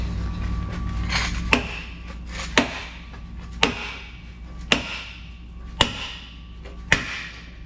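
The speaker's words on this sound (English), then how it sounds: "I'm gonna eat my words here and use the big sledge" A big sledgehammer strikes a stuck steel pin again and again, six or seven sharp metallic blows about one second apart, close and loud over a low background rumble.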